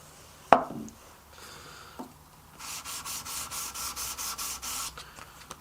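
A knife blade is hand sanded with 400 grit paper in a quiet workshop: a sharp knock and a few faint scrapes, then a steady run of about ten rhythmic, rasping strokes.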